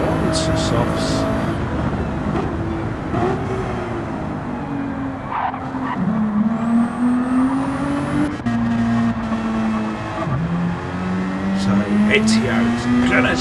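Sim race cars at Daytona leave the pits and run the track, engines droning steadily with rising and falling pitch while tires squeal. A commentator talks continuously over the racing noise.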